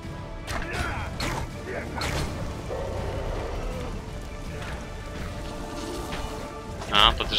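Rain falls in the video game The Witcher 2, a steady hiss running under someone talking, with occasional mechanical clunks and a brief thump near the end.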